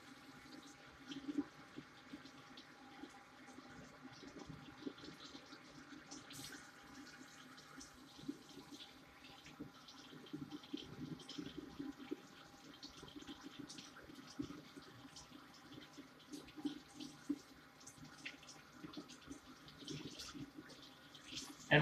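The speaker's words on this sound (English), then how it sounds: "We're going to let our water run." Tap water runs steadily into a sink, a continuous splashing rush while it warms to lukewarm for washing a protection mask. It stays at an even, moderate level with small fluctuations and no talking.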